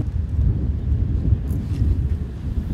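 Strong wind buffeting the microphone with a constant low roar, steady and loud throughout, no voices.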